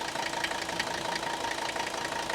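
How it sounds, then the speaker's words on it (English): A high-mileage Mercedes diesel engine idling with a mechanical, tractor-like clatter, a steady rapid knocking over a constant hum, heard at a moderate distance. "these engines are very mechanical sounding, and they almost sound like tractors"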